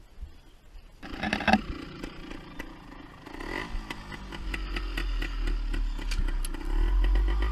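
A vintage Beta Synt trial motorcycle engine catches after a brief clatter and settles into a close, rough, uneven idle that rises and falls slightly, with no talk over it.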